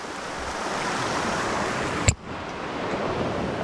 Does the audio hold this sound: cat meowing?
no